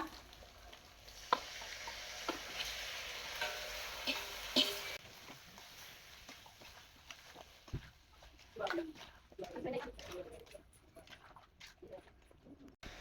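Chicken frying in a pan with ginger garlic paste and turmeric, a soft sizzle with scattered stirring scrapes that grow busier toward the end, faint and close.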